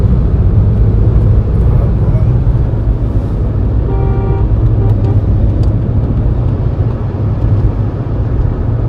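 A car drives along a road in a steady, loud rumble of engine and road noise from inside the cabin, with a brief horn toot partway through.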